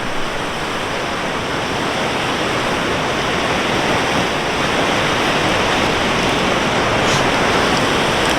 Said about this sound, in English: Just looking at the river beside me, or behind me.